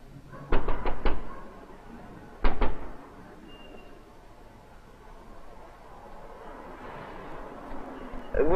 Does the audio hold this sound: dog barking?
no